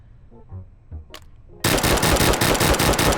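A G11 caseless rifle fires in the H3VR virtual-reality shooter, opening with a few quiet handling clicks, then a sudden loud, sustained rapid burst of automatic fire.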